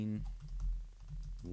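Light typing on a computer keyboard while text is entered in video editing software: a quick run of soft, close key taps over a low hum, with no talking.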